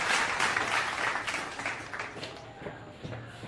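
Audience applause for Subhas Chandra Bose at a Subhas Chandra Bose Jayanti gathering: dense clapping swells at the start, then gradually thins and fades over a few seconds.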